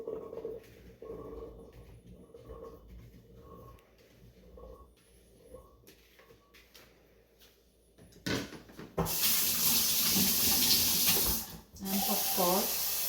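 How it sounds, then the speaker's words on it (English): Water is poured into a blender holding chickpeas and crushed cumin while a creamy hummus is being made, a short hissy trickle followed by a louder broadband rush as the blender starts up near the end, with a voice heard. "So put in water very carefully, about say 2 tablespoons of water for the blender to start blending"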